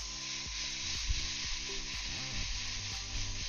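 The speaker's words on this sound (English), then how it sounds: "Yeah, that's spraying nicely." Gold overlay paint sprays onto a Gundam model in a continuous close hiss, steady and unbroken, with a low rhythmic background hum beneath.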